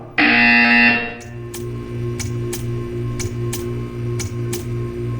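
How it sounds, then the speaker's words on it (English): A loud, harsh buzzer blares for about a second in a Portal 2 test chamber, then gives way to a low hum with faint repeating ticks and clicks, no voices. "You will hear a buzzer."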